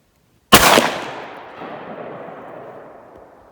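A single 12 gauge shotgun fires a 3/8 Fury slug at an outdoor range, a sudden loud close blast after a moment of silence, then a long echo fading out.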